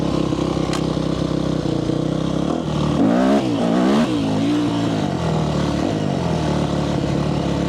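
A Yamaha YZ250F dirt bike engine runs steadily while being ridden, with a loud, continuous drone that rises and falls in pitch with throttle changes around the middle of the ride.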